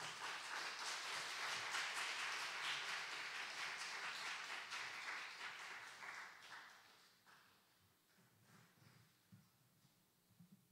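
A church congregation claps at a Wednesday evening service as a pastor is welcomed to the front, the applause filling the room at first, then thinning out and fading to a few scattered claps.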